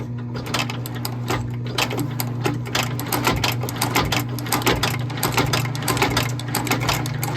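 A workshop machine running during the relasting of a pair of Fratelli Rossetti boots, a loud close steady mechanical drone with a rapid rhythmic chattering and clicking on top throughout.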